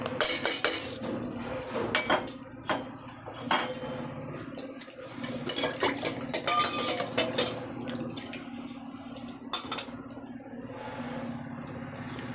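A spoon stirs buttermilk kuzhambu in a cooking pot, making close, busy metallic scrapes and clinks against the pot with a wet, sloshing liquid sound throughout.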